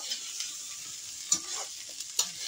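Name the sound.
rice being fried in a pan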